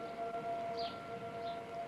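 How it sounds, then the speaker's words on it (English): A tornado warning siren sounds across a town, a steady distant wail with a faint rising tone over outdoor background noise. "Is that the tornado sirens going on?"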